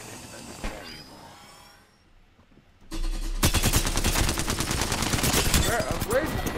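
Gunshots ring out in a video game: after a quieter stretch, a loud burst of rapid, crackling automatic fire starts suddenly and continues without a break.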